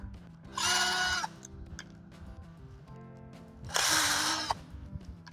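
A power screwdriver backs out screws holding the solenoid valve coil on a washing machine water inlet valve, two loud whirring bursts separated by small clicks and handling noise.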